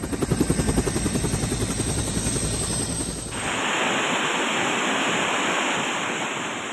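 A helicopter's rotor thumps rapidly and loudly during a flood evacuation of hospital patients in Hat Yai, Thailand, then gives way to a steady roaring whoosh of engine and wind noise.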